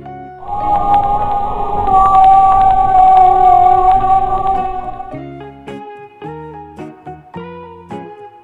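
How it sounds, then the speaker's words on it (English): A whale call rings out as a long, loud, tonal moan that holds steady for several seconds, then breaks into shorter wavering cries. "Whale."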